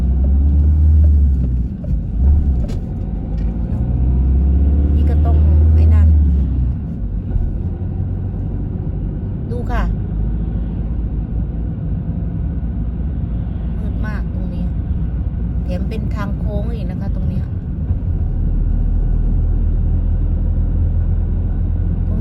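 A car engine rumbles low and steady while driving a foggy road, with faint clicks and cabin noises, under someone talking for much of the time.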